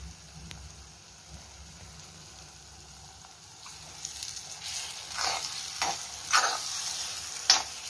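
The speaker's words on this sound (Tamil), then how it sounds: "இப்போ நல்லா ஹை ஃப்ளேம் வச்சாச்சு. இப்போ கிளறு போகிறோம்." Egg for kothu chapathi stirred and frying on a high flame: a soft sizzle with scraping stirs that grow busier and louder toward the end, alone.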